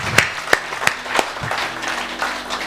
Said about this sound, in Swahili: Jipigieni tu makofi. Jipigie tu makofi wewe mwenyewe.